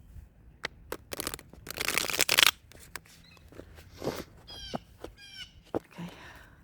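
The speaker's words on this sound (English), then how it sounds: "Let me shuffle these one good time, you guys." Tarot cards shuffled by hand in a couple of quick riffling bursts, close and crisp, with scattered softer card handling and brief chirpy sounds around them.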